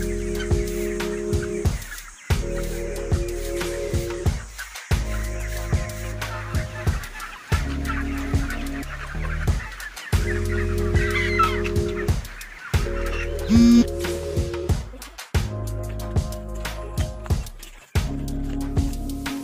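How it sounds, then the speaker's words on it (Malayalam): Broiler chickens of different ages crowded in a farm shed make a dense, continuous clucking chatter that carries on without a break at a fairly loud, close level. "ഓരോ ഷെഡിലും വ്യത്യസ്ത പ്രായത്തിലുള്ള കോഴികളാണ് ഉള്ളത്."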